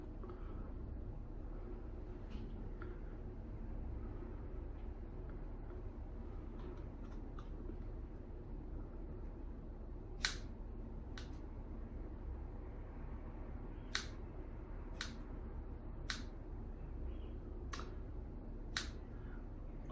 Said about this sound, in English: I don't know where these scissors came from, but they're not opening and closing easily